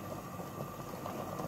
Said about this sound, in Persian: برنج جوش آمده